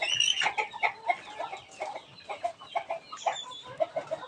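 Hens clucking softly in a muddy coop on an overcast, drizzly day, where a brooding mother hen is kept apart from the rooster; repeated short clucks and murmurs at close range, with no talk.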